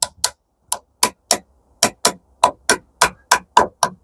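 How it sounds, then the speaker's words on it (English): Rebates for small window hinges are cut with a string of about a dozen sharp, close wooden knocks. They come in an uneven but steady rhythm with clean silence between each strike. "I had to rebate these little hinges"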